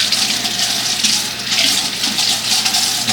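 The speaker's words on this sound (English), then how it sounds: "we have the green onion that we're going to take them. Rinse this off real good." A running kitchen tap gushes steadily as green onions are rinsed under the water, a close, continuous splashing flow with no talk.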